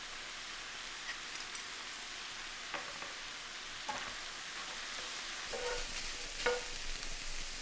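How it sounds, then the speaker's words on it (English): Turkey mince with minced garlic and sliced red chilli fries in a pan, a quiet steady sizzle broken by occasional scrapes and taps of stirring. "Stir together and fry for another 2 minutes."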